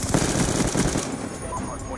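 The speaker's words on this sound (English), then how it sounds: "shot him in the head through like a piece of brick wall" Rapid bursts of automatic gunfire from a first-person shooter video game, loud and dense early on and then thinning out, with players talking faintly underneath.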